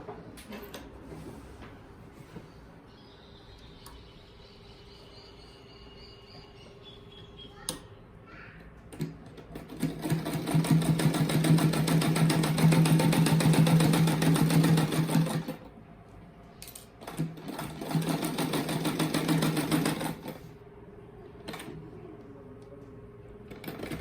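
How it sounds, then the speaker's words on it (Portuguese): A sewing machine stitches a seam around the edge of a fluffy children's rug in two loud, steady bursts of rapid mechanical whirring, separated by a short pause, with quieter handling noises and a voice before and after. "aqui eu vou passar uma costura toda a volta pra ele baixar assim, esses bicos"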